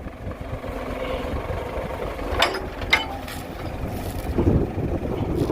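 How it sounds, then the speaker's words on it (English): A 2000 New Holland 655E backhoe loader idles steadily while two sharp metallic clunks ring out a moment apart as its stabilizer lowers. "Stabilizer's going down."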